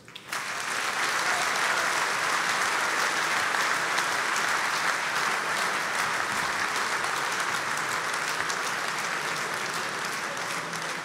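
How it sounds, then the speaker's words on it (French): An audience at an agricultural congress closing session applauds a minister after his final speech, sustained dense clapping from a large crowd that starts abruptly and holds steady throughout. "Vous voyez qu'il en restait des applaudissements."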